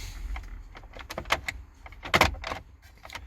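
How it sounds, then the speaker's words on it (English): Plastic ashtray in a car dashboard being pulled open, a short run of clicks, knocks and sliding rattles, close and fairly quiet, with a sharper cluster of clacks midway. "open up your ashtray"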